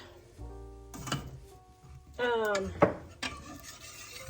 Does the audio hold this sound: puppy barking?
no